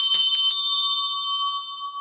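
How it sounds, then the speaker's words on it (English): A Zen Dokusan bell is struck three times in quick succession, then one clear ringing tone hangs and slowly fades, loud and close in a quiet room. "this is the bell that in Dokusan, a Dokusan bell"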